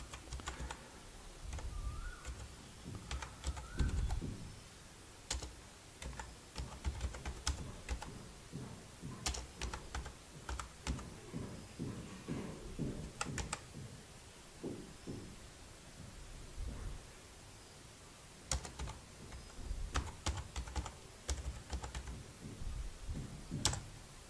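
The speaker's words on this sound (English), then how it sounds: "So you need to type the same name." Someone types on a computer keyboard at a desk. Faint, close keystrokes come in irregular runs and bursts throughout, with short gaps between words and no talking.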